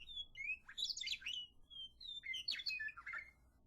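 Western meadowlark singing outdoors in Wyoming, two clear bursts of bright whistled, warbling song phrases with short pauses between, near and alone over faint low background hum.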